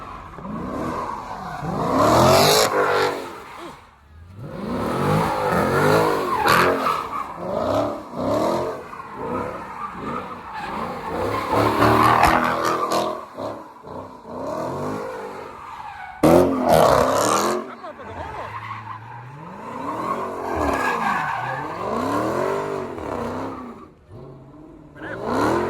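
A Chrysler 300 slides around with its engine revving hard and its tires squealing and skidding in repeated sweeping bursts, loud and close.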